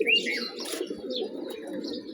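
A pigeon coos on a rooftop: a steady, low, throaty rolling coo running throughout, close and fairly loud, with a brief higher chirp at the start.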